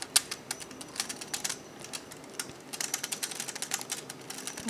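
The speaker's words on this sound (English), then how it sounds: "Let me use my trusty credit card again. Just open all of them." A credit card drags across a row of Brother knitting machine needles, flipping their latches open in a fast, light, close clicking patter.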